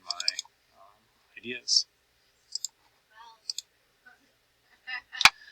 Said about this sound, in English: start typing in my